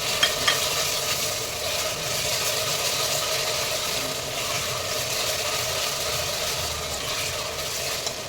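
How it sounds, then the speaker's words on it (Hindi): Fried onions (barista) tipped into a pan of mutton khichda, with a steady sizzle and frying hiss and faint stirring clinks throughout. "मैं ये बरिस्ता डाल रही हूँ ½ कप से ऊपर"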